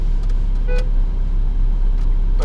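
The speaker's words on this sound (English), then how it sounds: "The car automatically switched on LPG." A 1995 Honda Accord 2.0 engine with 115 hp running on LPG while driving through the city, a steady low cabin drone with road noise and a couple of faint higher tones.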